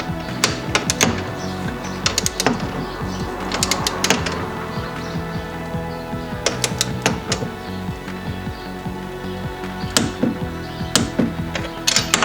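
A ratchet with a deep 15 mm socket turns A-arm bolts on a 2015 Polaris Scrambler, giving repeated bursts of fast clicking separated by pauses, close and crisp over a faint background hum, with no talking.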